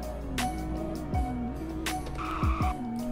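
A parked Roblox sheriff Ford Explorer SUV in Greenville Revamp hums steadily while several quick sharp revs and pitch sweeps rise and drop over it, loud and synthetic-sounding, with no talk.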